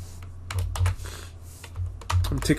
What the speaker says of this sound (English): I'm clicking Control Z on my keyboard to undo.